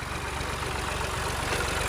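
A tractor engine on a damaged, dusty road gives a steady, low, rumbling drone at moderate distance, with no voices.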